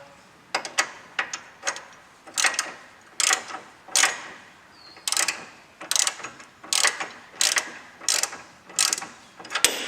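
A ratchet wrench tightens a nut onto the upper ball joint of a 1980 Volkswagen Vanagon, giving repeated bursts of sharp clicking with brief pauses between strokes, close and clear with no talk.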